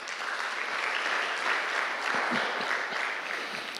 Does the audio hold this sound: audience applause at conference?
yes